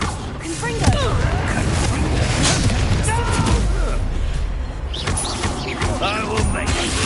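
A Confringo spell explosion in Hogwarts Legacy booms amid continuous battle noise, with repeated heavy impacts and crackles throughout, loud and dense, while voices shout over the combat.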